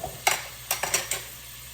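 Onions frying in a pan for an eggplant biryani give a soft sizzle, broken by a few sharp scrapes and clinks of a spoon stirring against the metal.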